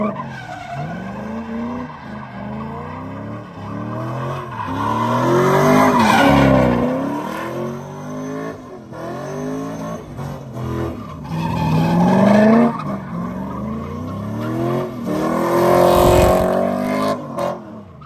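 A C5 Corvette fitted with an upgraded DeWitts radiator and fan is driven on the street. Its engine revs climb and fall repeatedly, loud and close, with squealing, skid-like tones throughout and no talking.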